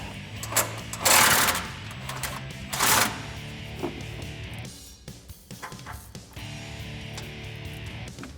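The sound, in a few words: ratchet backing out exhaust bracket bolt with 1/2 inch socket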